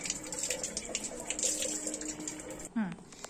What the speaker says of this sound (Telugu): ఇప్పుడు ఒక్కసారి వీటికి వాటర్ అప్లై చేద్దాం